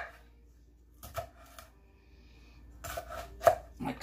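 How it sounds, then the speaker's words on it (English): A knife cuts broccoli on a board for a salad, making a few quiet, scattered chops and crisp taps separated by pauses, close and fairly soft in a calm kitchen. "And we're just going to cut all this broccoli up."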